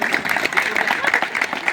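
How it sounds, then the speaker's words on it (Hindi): Applause from the crowd at a school retirement program, a brief burst of many hands clapping close and fairly loud, filling under two seconds. "तो जोरदार तालियां"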